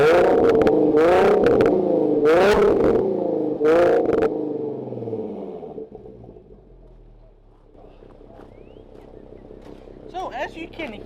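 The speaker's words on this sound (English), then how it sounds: "let me show you some revs real quick and let's see how you like it" A car with a Borla ATAK exhaust on a 2015-17 model revs hard four times at cold start, each loud, close burst snapping back, then the engine drops to a low idle with faint pops.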